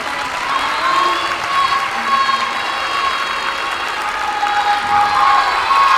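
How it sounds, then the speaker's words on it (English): A school spelling bee audience gives the spellers a round of applause; steady crowd clapping fills the room, with scattered children's voices and cheers mixed in throughout. "Let's give all these spellers a huge round of applause."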